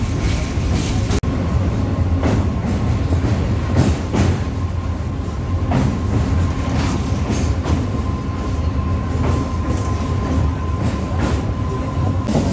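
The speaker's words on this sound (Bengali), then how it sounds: "ট্রেনটা এখন মেছেদা, বাগনান, উলুবেড়িয়ার মধ্য দিয়ে কিন্তু হাওড়ার দিকে ছুটে চলেছে" A local train running from Balichak toward Howrah through Mecheda, Bagnan and Uluberia, heard from inside as a loud, continuous rumble with periodic rhythmic clacks of wheels over rail joints.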